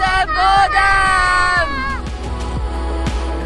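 An enthusiastic crowd at the Save Soil main event cheers and whoops. The noise is loud at first, then settles into a steady babble of voices.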